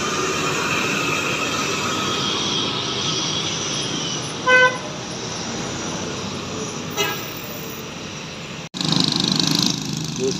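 An Indonesian intercity bus in an Aceh convoy sounds its musical telolet horn in two short melodic toots, about midway and again a little later, over a constant roar of road and engine noise.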